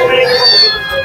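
A cat at a pet market gives one long, loud, close meow that rises and then trails off, with faint voices in the background.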